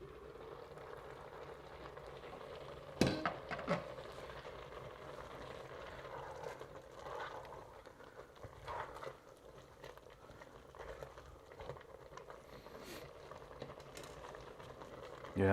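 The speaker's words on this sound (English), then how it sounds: "We're going to let that boil for a few minutes before we put the tomatoes in." Pasta shells boiling in a pot of water: quiet, continuous bubbling and gentle patter, with a few sharper clinks and knocks from the pot near the start.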